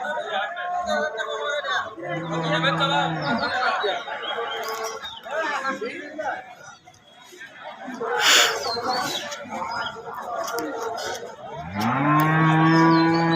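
Cows moo several times at a cattle market, long low calls over steady crowd chatter, with one loud close moo near the end among murmuring voices.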